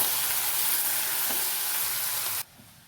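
Okra sizzles in a pan for a Kerala-style ladies finger mappas curry, a loud, steady frying hiss that runs unbroken, then drops away abruptly to near quiet near the end.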